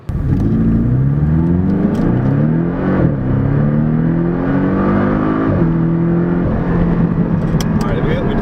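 Porsche 718 Cayman S accelerating hard, its engine note climbing in rising sweeps through several gear changes, loud and close from inside the cabin.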